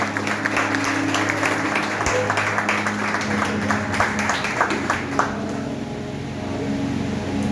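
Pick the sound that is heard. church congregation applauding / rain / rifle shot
church congregation applauding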